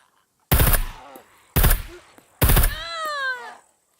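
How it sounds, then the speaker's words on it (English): Three sharp gunshot bursts from NPCs firing at puppets in the survival game Scum, each a loud, broad crack with a short tail; the last is followed by a sustained tonal ringing. "Who are they shooting at?"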